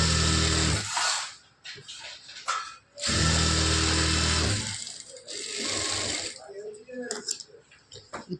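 A sewing machine runs in several loud, fast-stitching bursts with brief pauses between, sewing the lining of a Poonam saree blouse.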